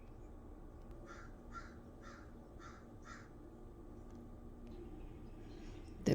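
A large black bird, likely a crow, caws five times in an even rhythm. The calls are distant and faint over a low steady outdoor hum.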